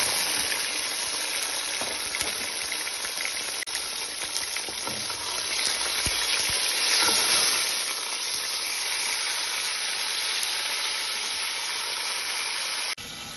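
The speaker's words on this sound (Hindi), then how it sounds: "जैसे ही हमारा थोड़ा सा गार्लिक फ्राई होना स्टार्ट होगा" Garlic frying in a cooking pot gives a loud, continuous hiss of sizzling oil that holds steady throughout, close by and alone, with a faint scrape partway through and an abrupt drop at the very end.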